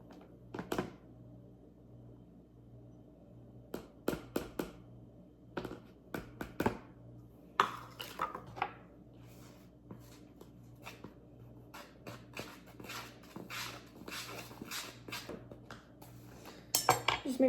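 Flour and cornstarch are stirred together in a bowl while cooking sesame chicken, giving sporadic close clinks and scrapes of a utensil against the dish over a quiet room hum.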